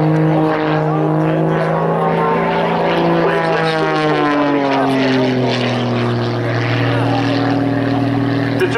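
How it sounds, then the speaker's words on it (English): An Edge 540 aerobatic plane with a 340-horsepower, roughly nine-litre IO-540 horizontally opposed six-cylinder engine drones loudly and continuously at an air show, its pitch dropping as it passes, with a commentator talking over it. "It's a 9-liter engine, it's a flat six cylinders, three each side, horizontally opposed, and about 340 horsepower."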